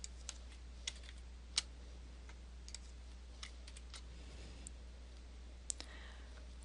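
Computer keyboard typing with Shift and arrow key presses while editing report fields on a PC, scattered quiet clicks and taps at an irregular pace over steady low hum, no voices.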